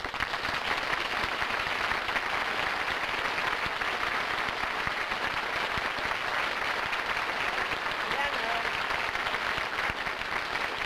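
Steady, dense studio audience applause fills the whole stretch at an even level, welcoming a singer onto a television comedy show.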